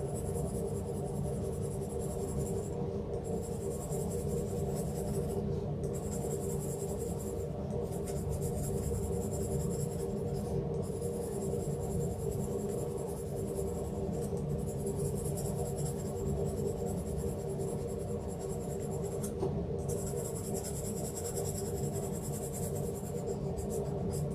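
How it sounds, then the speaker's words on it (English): Pencil lead shading on paper, the side of the graphite rubbed in steady circular motions for a portrait drawing; a continuous soft scratchy rasp held close and even throughout, with no talking. "we're just using the side of the pencil, holding the pencil at the end instead of the tip. Circular motions."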